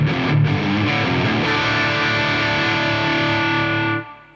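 Electric guitar played through the overdrive channel of a Victory V30 valve amp, heavily distorted sustained chords ringing loud and close, a few picked attacks at the start before the sound cuts off near the end.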